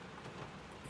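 Heavy monsoon rain pours onto a car with a broken wiper, giving a dense, continuous drumming hiss for a brief moment, with no voices.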